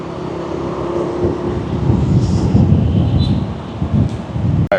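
Riding a motorbike through city traffic in Vietnam, steady wind buffeting and engine and road rumble fill the ride, with a few distant horn-like tones passing by.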